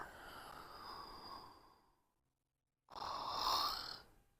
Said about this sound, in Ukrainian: Кілька глибоких дихів, видихів.